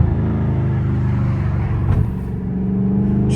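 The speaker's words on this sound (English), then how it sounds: "Get a little downshift. Give me another one." A Dodge Scat Pack with a 550 hp engine revs during a downshift, a loud, close, continuous rumbling roar that swells briefly with the rev, heard from inside the car at night.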